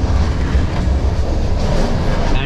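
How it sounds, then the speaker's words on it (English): An old, poorly maintained communist-era train rolls across Romania, heard from inside a compartment with an open window: a loud, steady low rumble of wheels and carriage noise with no speech. "this train hasn't been maintained in decades probably"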